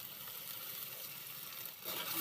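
Onion frying in a pan for Bengali rui fish curry with potato and cauliflower, a steady soft sizzle, faint and continuous with a slight swell at the end.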